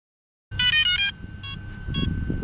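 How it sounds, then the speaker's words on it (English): A fishing drone beeping with an ESC error outdoors on Big Island, Hawaii: a loud cluster of rapid electronic beeps, then two shorter separate beep bursts over wind and background rumble. "Oh, it beeps. Why are you beeping?"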